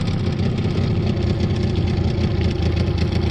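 Japanese Suzuki outboard boat motor, recently overhauled with new pistons and rings, running at a steady rumbling idle, loud and close with a continuous low throb and no voices.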